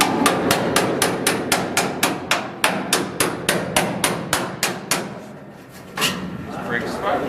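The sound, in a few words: hammering a spot weld tool to break floor pan spot welds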